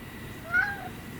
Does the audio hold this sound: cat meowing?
yes